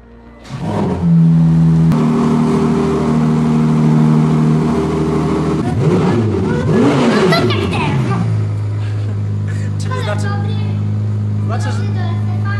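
A compact Ferrari V6, as in the SF90 and 296, idles and revs at close range with a steady low drone and rising and falling pitch sweeps, while people talk over it throughout.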